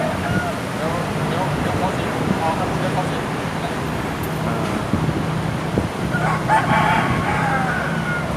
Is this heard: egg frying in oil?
no